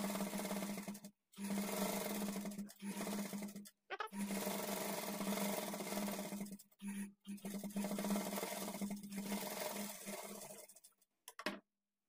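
Sewing machine stitching a blouse lining: quiet, rapid mechanical whirring runs in several bursts of a second or more, separated by short pauses.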